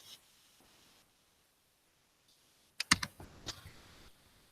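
Someone types a course name on a computer keyboard. After a quiet stretch with faint rustling, a few close key presses and clicks come in a brief cluster.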